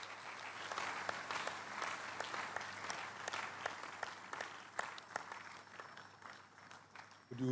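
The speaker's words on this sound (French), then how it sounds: "Donnons à Jésus une offrande d'acclamation pendant que nous recevons notre Père ce matin" A church congregation applauds and cheers for Jesus during a morning prayer service, steady dense clapping at moderate distance that carries through to a sharp burst at the end.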